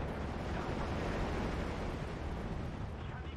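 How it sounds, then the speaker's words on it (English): Heavy bombs dropped by aircraft in the WWII strategy game Steel Division 2 give a dense, continuous rumbling roar of blasts that blend into one sustained low wall of noise, with no voices. "Should drop their bombs and they can just leave."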